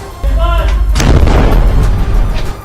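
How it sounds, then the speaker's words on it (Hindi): Explosions from the Israeli army at Al-Shifa hospital in Gaza: a heavy booming blast rolls out into a long rumbling roar, loud and sustained, after a brief lower rumble. "जहां उसने एक के बाद एक कई धमाके किए"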